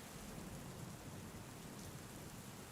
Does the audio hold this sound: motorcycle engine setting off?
no